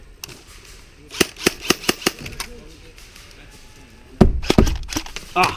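Airsoft guns fire during an outdoor woodland skirmish: a quick string of sharp snapping shots, then a pause, then a louder, denser cluster of shots up close.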